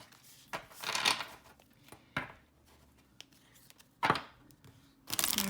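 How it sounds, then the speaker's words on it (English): A standard-cardstock oracle deck being shuffled by hand, with a few separate riffling, rustling bursts and soft card-slapping sounds broken by quiet pauses, close and crisp. "They shuffle really well."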